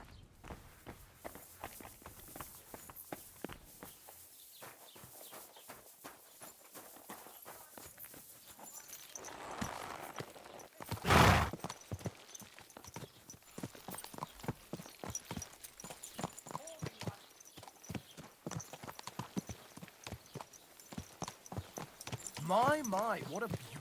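Horse hooves clip-clop steadily in the medieval video game Kingdom Come: Deliverance 2, a continuous walking rhythm of close, clear hoofbeats with a brief loud burst midway, while people talk over it.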